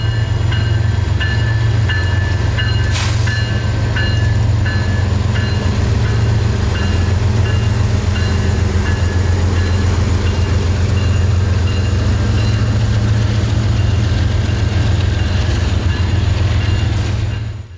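The CSX A704 weekday local freight passes on the W&A line near Dalton, Georgia. A loud, steady diesel rumble is joined by rolling wheel noise and intermittent clanks and squeals, sustained for the whole stretch with no talk.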